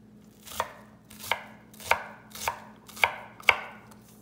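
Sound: chopping onions with a knife

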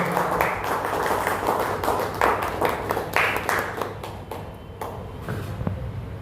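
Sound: audience applause at a workers' union protest meeting

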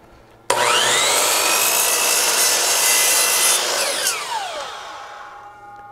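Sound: chop saw cutting a wooden board

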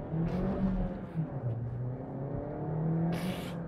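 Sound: Suzuki Swift Sport 2021 car accelerating

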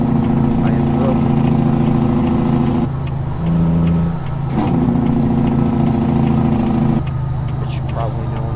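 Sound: truck engine failing in video game American Truck Simulator

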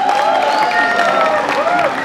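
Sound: audience applause welcoming Naved

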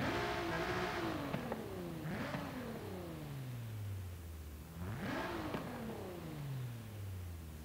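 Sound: sports car engine revving in video game

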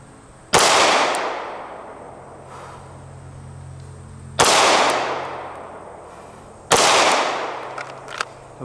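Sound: pistol gunshots during shot-in-shot drill at 5 yards

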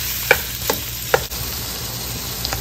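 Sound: stir-frying homemade beef meatballs with ground beef in a pan

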